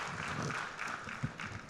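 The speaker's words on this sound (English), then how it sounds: "a big round of applause for Sri Durga Shankar Mishra" Audience applause at an event honouring Sri Durga Shankar Mishra, a brief burst of steady clapping from a crowd at moderate distance, with no voices over it.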